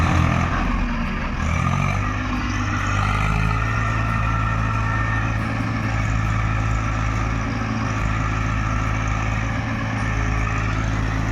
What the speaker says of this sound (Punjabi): ਆ ਟਰੈਕਟਰ ਆ ਗਿਆ ਜੀ ਗਵਾਂਡੀਆਂ ਦਾ